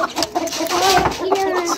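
Chickens cluck and squawk loudly and continuously as a rooster attacks a hen, with agitated fowl calls layered over one another close by.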